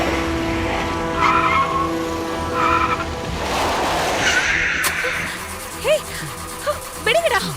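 A car engine revs and tires squeal as the vehicle slows, with voices talking over the noise and a few sharp chirps near the end.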